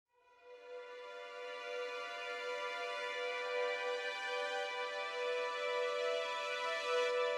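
A sustained, airy high-register string ensemble from Spitfire Audio's Albion V library, the Frozen Longs patch, swells in softly and holds one steady, glassy chord with no other sounds.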